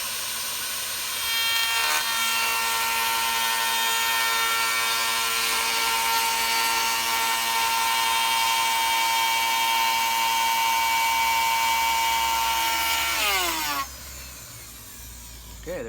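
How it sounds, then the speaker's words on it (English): A router with a 3/8 inch rounding-over bit cuts along the edge of a 3/4 inch oak stair tread, giving a loud, steady high whine with a cutting rasp that runs unbroken for about twelve seconds and then spins down. "We're about to round off the oak 3/4 inch with a 3/8 inch rounding off bit"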